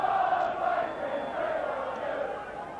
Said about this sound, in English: So a big crowd inside Kilbowie Park